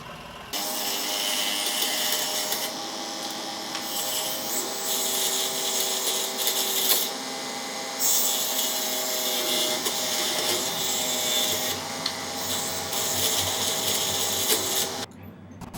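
A power saw runs steadily through wood, cutting a belt buckle shape at fast blade speed, with a high, whining buzz, pitch shifting slightly as it cuts, then stops abruptly near the end.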